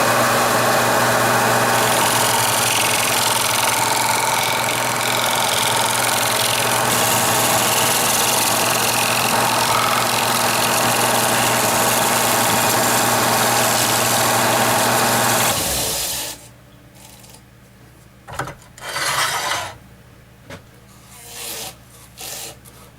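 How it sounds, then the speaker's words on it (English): A lathe turns a Brazilian pepper tree wood vase while a shear scraper rubs across the surface, a steady loud rasping whine over the motor hum that stops abruptly, leaving a few soft scrapes and knocks. "I'm just going to shear scrape a little bit on this area right here"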